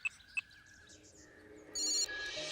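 A telephone rings faintly after a number is dialed, with two short tones followed by a warbling electronic ring. It is quiet and sounds as though it comes through a handset.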